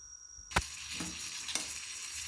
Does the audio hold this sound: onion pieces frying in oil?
yes